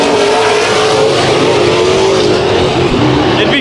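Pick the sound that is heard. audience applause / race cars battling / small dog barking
race cars battling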